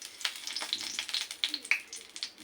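Dried chili and bay leaf dropped into hot oil for a vegetarian pumpkin and potato curry, a close, steady sizzle and crackle with bright spitting pops and soft stirring scrapes.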